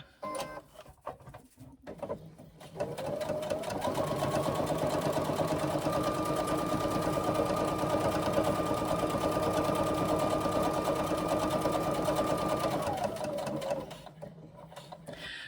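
A sewing machine stitches a side panel piece of a backpack, starting after quiet handling noises, then running in one long steady whirring burst before slowing and stopping, close and fairly loud.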